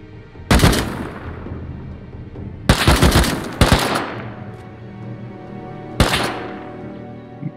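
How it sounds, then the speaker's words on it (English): Gunfire in the Rust survival game sounds in four sharp, loud bursts, each a rapid crack with a lingering tail, spaced irregularly with quiet stretches between. "He's shooting me in the gaps!"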